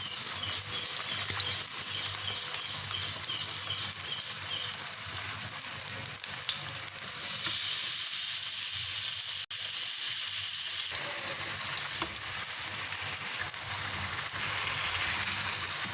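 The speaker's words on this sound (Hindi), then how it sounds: "दोनों तरफ से अच्छा सा गोल्डन सा फ्राई कर लेना है हमने।" Chicken patties for a homemade McArabia-style sandwich sizzle steadily in a pan, a dense, even hiss that holds for the whole stretch with a brief softer dip midway, no voices.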